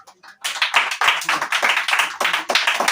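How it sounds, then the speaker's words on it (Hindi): Children clap together at a Children's Day quiz, a close, loud burst of quick rhythmic claps that falls into a steady beat after a brief quiet start. "इसके लिए ताली बनता है"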